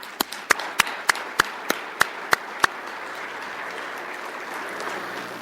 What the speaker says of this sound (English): join me in another round of applause for an outstanding job.